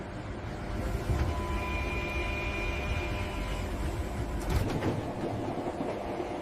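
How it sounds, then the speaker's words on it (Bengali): An animated Dhaka metro train speeds along its track with a steady rumble and a thin whining tone, plus a brief rattling clatter partway through. No voices. "মেট্রো ট্রেনটি দ্রুত গতিতে সামনে এগিয়ে চলল।"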